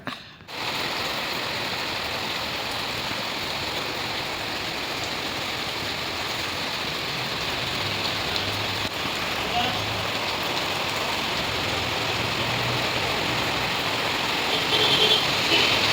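Steady rain pours down continuously, a dense even patter and hiss that stays constant throughout, with no talking.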